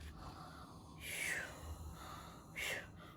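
A child imitates a grandpa's snoring, making soft breathy snorts in two short bursts, quiet and close.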